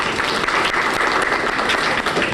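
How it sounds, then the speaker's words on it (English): Audience at a campus closing luncheon giving a dense, sustained round of applause, many hands clapping loudly and evenly for a couple of seconds. "Give yourselves a round of applause."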